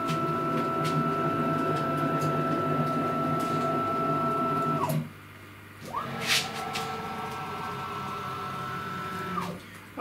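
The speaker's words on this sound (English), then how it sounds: "I'm manually going to take the head over and bring it forward" A CNC router head moved into position, a steady whining motor hum that stops for about a second and then starts again with the same drone, close and fairly loud.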